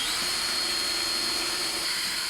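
A power drill drives screws into the backing of a Sprinter van door during a DIY conversion, giving a steady, close, high-pitched whine that runs unbroken through the whole moment with no speech.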